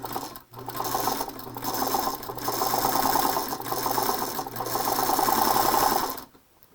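A sewing machine stitches a quilt in steady, continuous runs of rapid mechanical whirring, pausing briefly near the start and stopping at the end, close and fairly loud with no talk.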